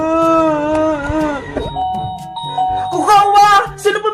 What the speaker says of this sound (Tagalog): sino pumito ng doorbell?